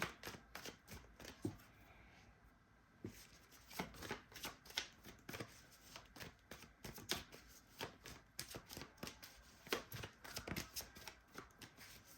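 Oracle cards riffled and shuffled by hand in quick, crisp bursts of papery flutter and slapping, repeated with short pauses, soft and close with no talking.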